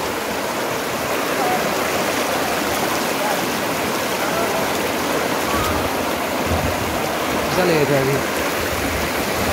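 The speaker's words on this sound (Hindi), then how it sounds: "ये है पूरी नदी।" A river rushes steadily over stones near a waterfall at Kotabagh, Nainital, a loud, continuous broadband roar close by, with a person speaking briefly over it.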